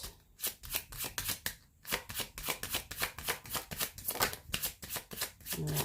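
Rebel deck oracle cards shuffled in quick, steady riffles and slides, a close, continuous papery flutter with short pauses, no talking.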